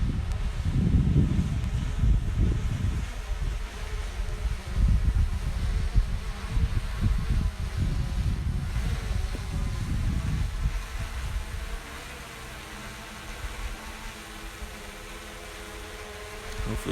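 An Autel EVO drone buzzes as it flies in to land, a whirring drone mixed with wind noise that swells close by, then fades to a fainter hum.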